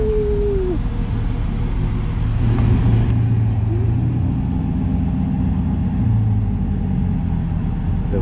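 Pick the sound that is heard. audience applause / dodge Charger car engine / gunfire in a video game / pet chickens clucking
dodge Charger car engine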